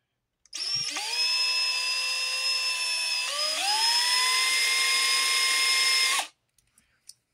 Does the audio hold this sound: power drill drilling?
yes